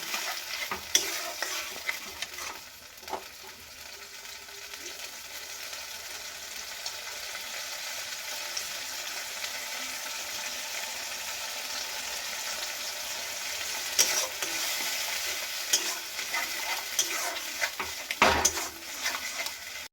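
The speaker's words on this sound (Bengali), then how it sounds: "এবার সমানে কিন্তু নাড়াচাড়া করব।" A bharta mixture fries in a pan, a constant soft sizzle broken by scraping and clattering from a spatula stirring it, with a few louder knocks against the pan.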